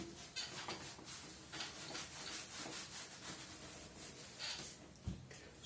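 Faint, steady scraping strokes of writing being rubbed off a board, repeated back-and-forth rubbing with no talking.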